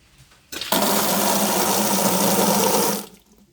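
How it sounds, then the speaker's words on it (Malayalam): A tap on newly fitted household plumbing turns on after the main supply is restored, and water gushes steadily for a few seconds, close and loud, then cuts off. "മെയിൻ പൈപ്പ് ഓഫ് ചെയ്തിട്ടേക്കണ അത് ഓൺ ചെയ്തിട്ട് വരാം"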